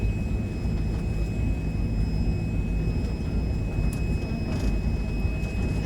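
Airplanes at an Istanbul airport give a steady, loud low rumble of engines that fills the whole stretch, with faint voices mixed in.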